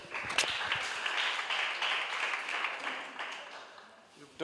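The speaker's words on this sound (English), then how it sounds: "students, can you clap for yourself?" A crowd of students claps steadily for a few seconds at a spelling competition, the applause dense and fairly close, tapering off near the end as a voice begins.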